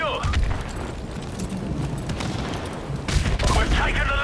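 Call of Duty Modern Warfare Remastered multiplayer firefight with a frag grenade blast amid rapid automatic gunfire, loud and continuous with a sharper burst of shots late on, while voices shout over the action.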